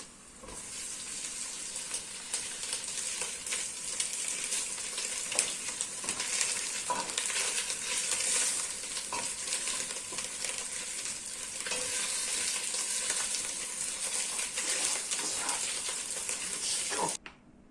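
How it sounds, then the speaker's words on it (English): Minced meat frying with onion in a pan for home-made sloppy joes, a continuous dense sizzle with intermittent scraping and stirring clatter throughout, fairly close and alone with no talk. "time to put the minced meat in"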